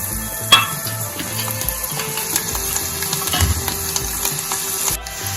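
About ten cut garlic cloves frying in hot oil give a steady close sizzle with occasional stirring clinks, fairly loud and without talk.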